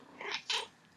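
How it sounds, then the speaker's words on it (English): A cat on a person's lap lets out two short, soft vocal bursts close by in a quiet room, no talk. "I have a noisy kitty on my lap."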